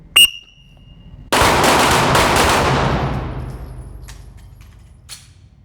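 A rapid burst of pistol fire during a shooting class drill in Terre Haute, Indiana, with several quick shots blurring together, ringing loud and close before echoing away; a sharp beep comes first and a faint pop follows near the end.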